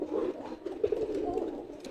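A male pigeon coos in a soft, repeated rolling burble, close by and fairly steady across the short stretch with no talk over it.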